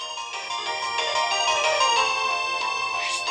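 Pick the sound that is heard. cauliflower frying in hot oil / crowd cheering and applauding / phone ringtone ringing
phone ringtone ringing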